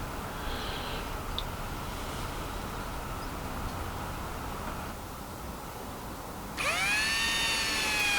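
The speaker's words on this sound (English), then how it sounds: "all I've done then is just drilled a couple of holes on each side with a little ryobi drill" A small Ryobi cordless drill bores holes in wood at a garden shed. A steady, hissy drone runs throughout, then a high whine rises sharply near the end as the bit speeds up.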